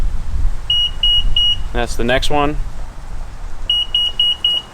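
Sets of short, high electronic beeps in quick succession from a Tesla Model 3 power liftgate's speed setting, then a brief spoken remark, then another run of rapid beeps.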